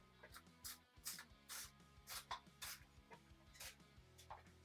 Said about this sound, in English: spray a little bit of oil.